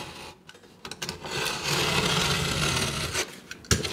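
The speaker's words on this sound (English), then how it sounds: "just cut the back end with the Stanley knife" A Stanley knife scoring and cutting the back of plasterboard, short scraping strokes followed by a longer sustained rasping cut, close and fairly loud, with a sharp tap near the end and no speech.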